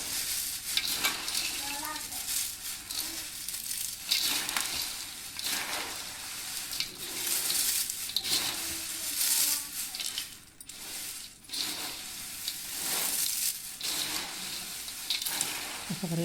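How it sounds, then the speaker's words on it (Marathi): Fried peanuts being stirred into makhana chivda in a pan: scraping and rattling of the dry mix with faint sizzling, irregular clatters close by, fairly quiet, with no talking. "शेंगदाणे तळले ते पण टाकून घ्यायचे आपल्याला."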